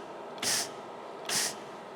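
Two short bursts of gas hiss from a welder's CO2 regulator, each about a quarter second long and close by. The valve opens and closes with a brief pause between bursts, and no one talks over it.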